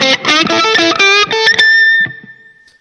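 Electric guitar, a Supero S6616, played through a Line 6 POD HD500 on its DOD distortion model: loud, saturated chords in a quick rhythmic run, ending on a single sustained note that rings out and fades.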